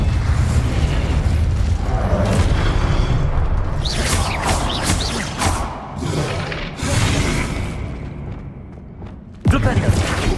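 Spell blasts from Hogwarts Legacy combat, including an Incendio fire spell, burst out as loud booming thumps and crackling pops amid dense battle noise, with a voice shouting spell names throughout.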